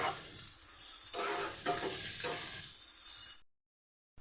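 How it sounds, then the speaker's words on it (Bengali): Something frying in a pan with a little salt and turmeric powder, a dense sizzle with bursts of stirring scrapes, then a sudden drop to silence before a short return. "দিচ্ছি সামান্য পরিমাণ নুন অল্প কিছুটা হলুদ গুঁড়ো দিয়ে আমি ভেজে নিচ্ছি"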